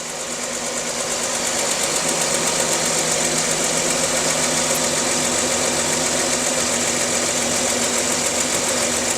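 A 2009 Chevrolet Equinox with a failing instrument panel cranks and fires, then settles into a loud, steady idle with a buzzy, mechanical hum and faint rhythmic ticking, recorded close with no talk.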